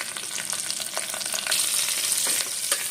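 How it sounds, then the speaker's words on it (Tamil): Onions, curry leaves and slit green chilli frying in a pan, a dense, steady close sizzle with crackling and faint stirring scrapes, no voices. "வெங்காயம் பாருங்க நல்லா வதங்கிடுச்சு."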